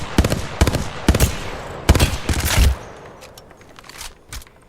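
Gunfire in the battle royale game Apex Legends comes as rapid, sharp bursts of shots, loud and close in the first three seconds, then fades to fainter, scattered shots further off.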